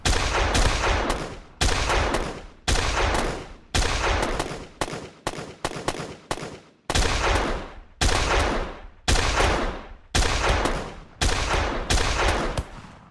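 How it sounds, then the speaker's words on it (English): Unreal Engine 5 gunshot sound effects at close, medium and far range fire one after another, about a dozen loud sharp blasts with ringing decays, some in quick pairs and some spaced apart. "I've got three gunshot sounds. I've got our close, our medium, and our far away."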